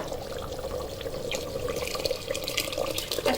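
Water pours steadily into a cooking pot of rice and lentils, a continuous close splashing rush with no pauses, heard alone.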